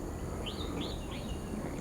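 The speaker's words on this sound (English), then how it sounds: "pretty birds playing in amongst these trees" A few faint, rising bird chirps repeat over a noisy, rumbling background, distant and soft, from birds in trees at Kent Ridge Park, Singapore.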